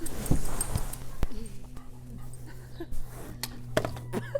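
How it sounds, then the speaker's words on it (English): Dog jumping up indoors and panting nearby, with scrabbling paws, soft thumps and quick breaths mixed with small whimpers over a low room hum, while people move about close by. "We got really interrupted by the dog."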